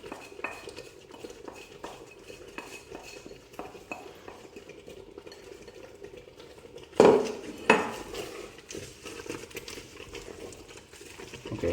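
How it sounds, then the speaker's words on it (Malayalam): A metal spoon stirs fried coconut and coconut slices through tapioca biriyani with beef in a pot, making repeated close scrapes and clinks, with a louder clatter midway and no voices. "നമുക്കിനകത്തോട്ട് മിക്സ് ചെയ്ത് കൊടുക്കാം."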